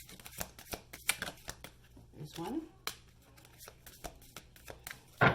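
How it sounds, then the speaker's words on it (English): A deck of cards being shuffled in several brisk riffling bursts, close and fairly quiet, with a person talking over much of it and a louder shuffle at the end. "One more shuffle."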